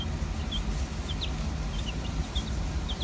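Young chicks peep in high, thin, repeated chirps inside a pen lined with pine shavings. The peeps are scattered and fairly faint over a steady low rumble of background noise.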